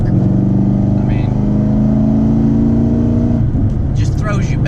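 Cammed 2009 Pontiac G8 with an LS V8 pulling hard from 50 to 55, its deep lumpy exhaust rumble loud and rising before easing off near the end as a voice talks over it.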